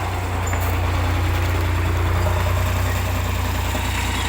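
The diesel engine of a T-150 crawler bulldozer drones steadily and loudly up close while pushing a pile of clay, a deep low rumble held without break, sounding strained under load.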